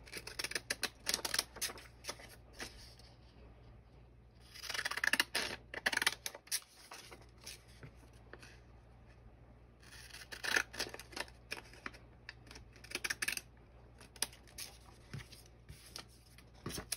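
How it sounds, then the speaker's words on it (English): Decorative scissors snip through paper during a sticker crafting session, crisp close cuts arriving in quick repeated bursts with short pauses between, over a low steady background hum. "Maybe I'll use my decorative scissors for that."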